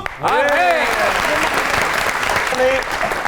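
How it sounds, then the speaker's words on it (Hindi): A studio audience on a Pakistani comedy talk show bursts into loud, sustained applause and cheering that carries through the whole stretch, with a host's voice and whistles rising over it. "तो आपकी बहुत सी तालियों में दी वन एंड ओनली मलकू।"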